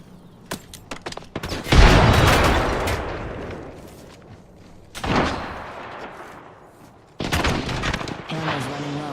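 Loud video-game gunfire in bursts: rapid shots near the start, then heavy sustained fusillades around two and five seconds and again near the end, with sharp onsets and some speech mixed in.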